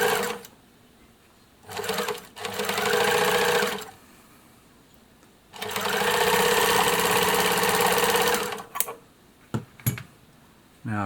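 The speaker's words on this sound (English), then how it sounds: "We should be all set to sew along here" A BabyLock EA-605 overlocker serger threaded with four threads runs in two long, loud, steady bursts of fast mechanical whirring, close up, with short pauses and a few clicks between runs and no talking.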